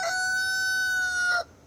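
A rooster crows once at a chicken and egg plant in Middle Tennessee, one loud close call held for over a second before cutting off.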